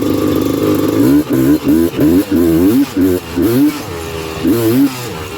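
Honda TRX330R quad engine revving hard while riding, rising and falling in repeated surges as throttle opens and closes, loud and close, with someone talking over it.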